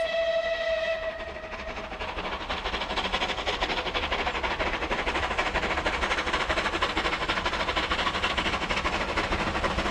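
A rebuilt West Country Pacific steam locomotive, shorn of its air-smoothed casing and chain-driven valve gear, rumbles past steadily and loudly, opening with a short sustained whistle tone that fades into continuous running noise.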